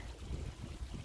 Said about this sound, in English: We've got a little bit of a whirlpool action going on